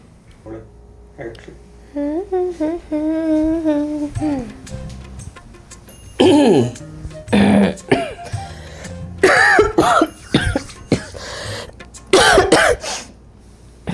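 A person coughs and clears their throat repeatedly in harsh bursts between stretches of talk, close and fairly loud.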